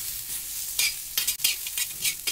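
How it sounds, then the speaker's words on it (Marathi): Onion frying in oil in a hot pan on medium heat, with a bright continuous sizzle and occasional stirring scrapes, close up and with no speech. "तवा चांगला गरम झाल्यावर आपण तेल टाकून घेतल्यानंतर कांदा जो आहे तो आपला गॅस मिडियम ठेवून चांगलं भाजून घ्यायचं आहे।"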